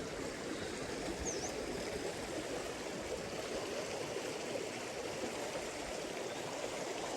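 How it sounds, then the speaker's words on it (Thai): A stream flows in a cool-season setting at Wang Nam Khiao, Xaysomboun, Laos, making a steady, dense rush and burble that stays even throughout, fairly close and free of talk. "ฟังแบบเสียงน้ำไหลก็มีความสุขเลยนะ"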